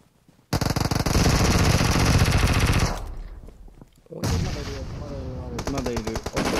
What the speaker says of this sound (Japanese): スナイパーで応戦。